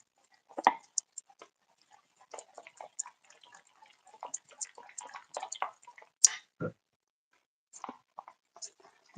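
Water dripped drop by drop into pancake batter in a kitchen, giving faint, scattered soft clicks and wet taps at an irregular pace with quiet gaps between them.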